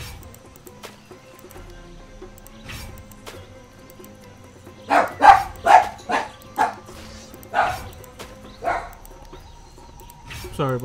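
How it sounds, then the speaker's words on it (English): A dog barks in a quick burst of about half a dozen loud, close yelps, followed by a couple of fainter barks, over a quiet indoor background. "Sorry about my dog."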